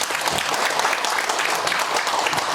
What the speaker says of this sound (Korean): 박수 한번 칩니다.